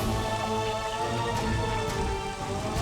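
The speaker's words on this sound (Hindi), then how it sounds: "इतनी बारिश हो रही है" Heavy rain pouring steadily, a dense continuous hiss of drops striking surfaces, loud and close with no other sounds.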